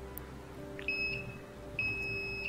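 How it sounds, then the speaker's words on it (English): Beeps from a buzzer in an Arduino magnetic reed switch door security circuit, two short high tones repeating in a steady pattern, faint against a quiet electrical hum. "As you can hear the sound, it means our buzzer is okay and all our connections are correct."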